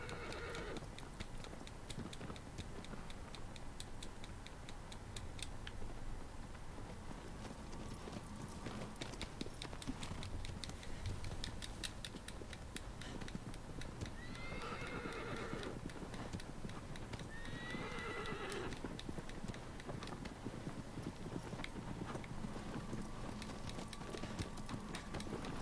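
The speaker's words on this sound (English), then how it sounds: "Helps if I guide the horsey in the correct direction, though." Hoofbeats of a galloping horse in the video game Shadow of the Colossus, a steady clip-clop rhythm over ambient game sound, with two clear neighs midway through.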